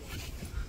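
A puppy whimpers and pants softly in a short, close burst, with faint low rumble beneath and no speech.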